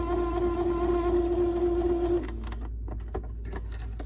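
A sewing machine runs steadily while stitching a quarter-inch fabric seam, its motor whir holding a strong, even hum for about two seconds before stopping, followed by a few faint clicks and handling sounds.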